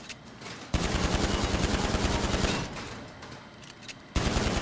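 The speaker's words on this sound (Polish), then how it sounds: "Tutaj będę trzeba szybko strzelać." A rapid-fire pistol empties at targets on a GTA 5 shooting range, played as Michael. Loud strings of quick shots sound close up, ease into lighter firing, then burst out again at the end.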